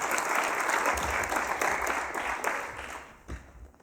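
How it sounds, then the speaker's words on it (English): Conference audience in a main theatre giving a round of applause after a talk: full, even clapping from many people that softens and breaks up into scattered claps over its last second. "let's do a round of applause"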